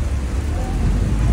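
Steady rain pours on a rainy day in Adana, a dense, even hiss of drops with low rumbling underneath, constant and fairly loud throughout the short stretch with no voices.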